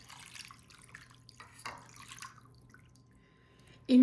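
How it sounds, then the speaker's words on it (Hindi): Water trickles and drips into a bowl of fish marinade made with salt, garlic paste and carom seeds, a faint close pouring with small splashes, then ends in a sudden louder knock. "इसमें पानी डाल लेते हैं।"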